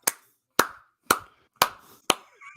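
Five sharp, evenly spaced hand claps, about half a second apart, ring out close and loud during an Impact Wrestling watch-along as Joe Hendry makes his entrance.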